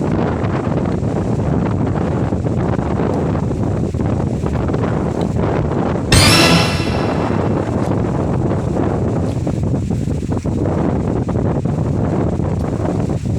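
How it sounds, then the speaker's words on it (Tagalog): Steady wind blowing across open farm fields buffets the microphone throughout, a broad constant rush with a brief louder gust midway. "Ang sarap ng hangin."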